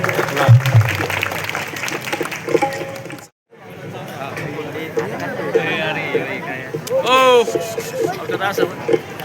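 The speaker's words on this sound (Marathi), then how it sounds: "सर्व टाळ्या वाजवायच्या आहेत" An audience at a hall inauguration ceremony claps steadily in a dense patter that runs through most of the clip, with voices mixed in around it.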